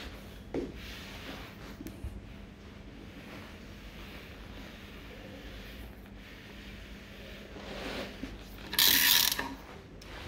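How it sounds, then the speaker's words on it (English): Ratchet clicking as a Mercedes CLS 63 engine from 2015 with 205k km is turned over by hand during a rebuild, faint mechanical ticks and rattles in a quiet workshop, ending in a brief louder burst. "Alright, let's spin also the engine."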